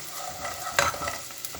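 Tomato paste and garlic sautéing in a pan for creamy tomato pasta, a soft frying hiss with a brief louder stirring scrape in the middle.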